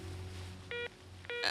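Two short bursts of telephone dialing tones in a cartoon scene, each a bright beep separated by a pause, over a low steady background hum.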